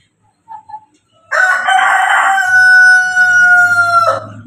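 A couple of soft clucks, then a loud, close rooster crow that stretches out for several seconds.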